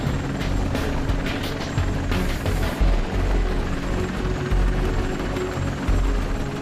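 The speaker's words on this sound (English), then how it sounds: "The final training exercise, or FTX, begins with a helicopter insertion and extraction drill" A military helicopter drones loudly and continuously during a pararescue insertion and extraction drill, its rotor chop pulsing through a dense, roaring engine noise.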